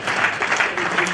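Dense, close applause at a community gathering in Ukanafun, a short continuous burst of many hands clapping with no gaps.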